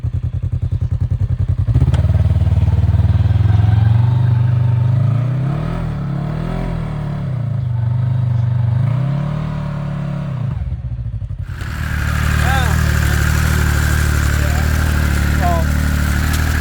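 Loud Polaris RZR Nytro off-road vehicle engine with a new race clutch runs steadily with rising and falling revs and rattling clatter, while a voice talks over the rumble.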